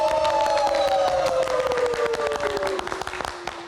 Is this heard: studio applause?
yes